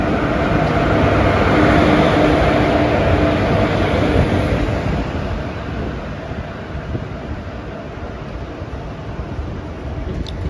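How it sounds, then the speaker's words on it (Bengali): The 11013 Kurla Express from Lokmanya Tilak Terminus to Coimbatore rolls into platform 2 at Bengaluru Cantonment station, a loud continuous rumble and rattle of wheels that eases slightly in volume as the train slows. "বেঙ্গালুরু ক্যান্টনমেন্ট স্টেশনের 2 নম্বর প্ল্যাটফর্মে তখন ঢুকছে মুম্বাইয়ের লোকমান্য তিলক টার্মিনাস থেকে কোয়েম্বাটুরগামী 11013 কুর্লা এক্সপ্রেস"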